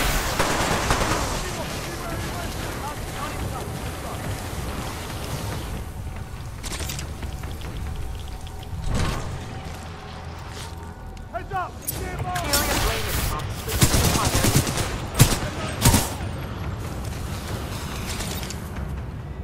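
Turret gunfire in the video game Titanfall 2 sounds as rapid bursts of shots and blasts over a dense battle background, with louder volleys toward the end.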